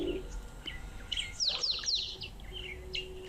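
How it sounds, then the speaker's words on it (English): A pied wagtail calls close by at a waterhole, a few bright, quick chirps clustered in the middle of the clip over steady outdoor background noise. "could be a pied wagtail that's calling somewhere close to the camera"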